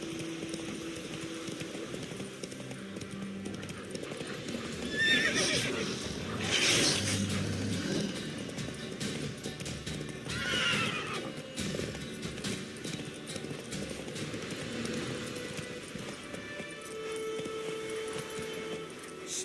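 Roach the horse gallops in The Witcher 3, with rhythmic hoofbeats on and on for the whole stretch and a louder whinny rising midway over a steady background.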